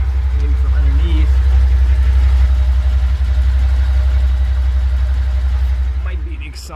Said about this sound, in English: there's some kind of ticking noise. Maybe from underneath.